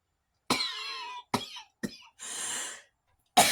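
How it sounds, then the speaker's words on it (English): Someone coughs in several harsh, separate bursts, close and fairly loud against silence, with a longer breathy throat-clearing rasp in the middle and another cough starting at the end. "Gotta go. Coughing."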